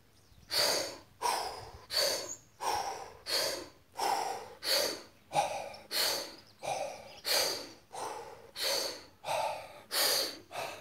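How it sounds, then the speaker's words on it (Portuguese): Rapid, rhythmic power breathing in and out through mouth and nose together, Wim Hof method style, about fourteen strong close breaths in a steady cycle, alone without talk. "vou colocar respirar pela boca e pelo nariz juntos"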